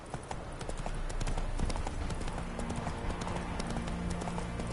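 Hooves of the horse Roach clip-clopping at a steady trot in The Witcher 3 game, a continuous rhythmic beat over outdoor ambience.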